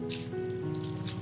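Rain falls steadily throughout, a constant close patter on a surface with a low hum and tonal background sounds beneath it, and no voices.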